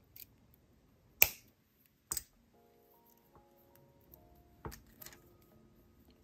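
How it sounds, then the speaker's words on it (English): Wire cutters snip excess jewelry wire on a charm bracelet, making a few sharp, isolated clicks against near silence, with faint metallic tinkling in between. "Let me cut off the excess."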